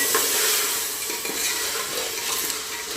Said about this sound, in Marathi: तर आपण याच्यामध्ये आता हे मटार घालूया. मिक्स करून घ्यायचं.